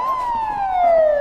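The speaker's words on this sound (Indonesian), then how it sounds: "menghidupkan sirine polisi dari ponselnya untuk menakuti para pengganggu" A police siren played from a mobile phone gives one loud, steady wail that slides slowly downward in pitch, heard alone and close.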